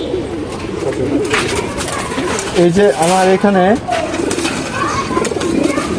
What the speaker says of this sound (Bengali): এক পেয়ার কবুতর আছে সেটা হচ্ছে একদম সিলভার কবুতর